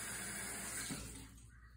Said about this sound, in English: So first we're gonna rinse these off in the sink.